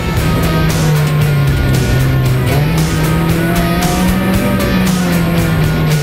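Suzuki Swift rally car driven hard on a rally passenger ride, the engine roaring loud and close with continuous revving and shifting pitch from start to finish.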